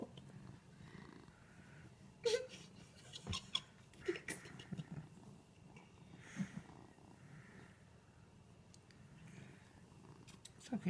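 A cat purrs softly in close, a low, faint, steady rumble running throughout. Quiet voices and a few brief handling bumps break in now and then.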